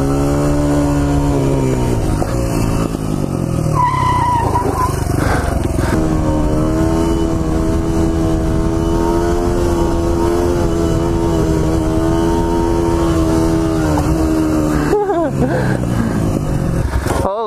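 A pit bike's small engine runs loud and close, climbing and falling in pitch as it revs, with people talking over it throughout.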